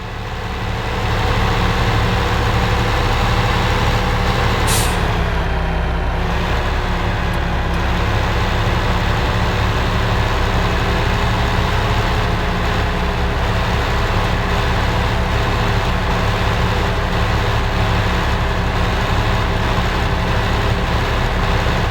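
Truck engine in the Farming Simulator 15 game drones loudly and continuously with a deep low rumble, its pitch rising and shifting as the throttle opens and the truck speeds up.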